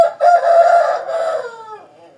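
A fighting-breed rooster crows once, loud and close, in a long drawn-out call that rises, holds, then trails off into a fading tail with nothing else heard.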